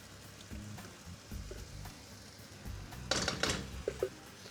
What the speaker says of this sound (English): We just wanna stir this around, just fry it a little bit